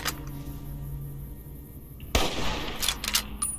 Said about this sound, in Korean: 저 방사능 정갈들을 32 라이플로 저격해보도록 할게요